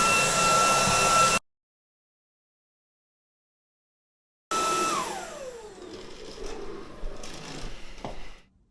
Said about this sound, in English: this is debris which I gathered by vacuuming